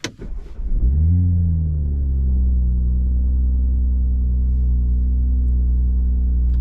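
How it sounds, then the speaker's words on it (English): A 2022 Toyota GR Supra 3.0 Premium, stock 3-liter inline six in sport mode, cranks and fires with a loud bark, then falls into a steady, deep idle burble that carries on alone. "I throw it in sport mode, and then I start it, because you get a little burble action"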